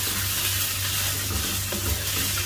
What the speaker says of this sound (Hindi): मटन को मैं अच्छी तरह भूनूंगा प्याज के साथ